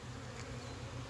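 Honey bees buzz at an opened hive in an 8-frame box during an inspection, a steady close drone with no voices.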